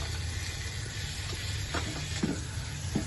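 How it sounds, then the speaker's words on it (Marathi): Ground masala paste fries in oil for a thin mutton rassa curry, giving a continuous close sizzle broken by a few soft stirring scrapes. "आणि ते ते तेलामध्ये चांगलं फ्राय करून घ्या"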